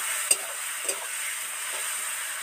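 Tomato and potato frying in oil in a kadai, a soft steady sizzle with two brief stirring scrapes near the start, close and fairly quiet.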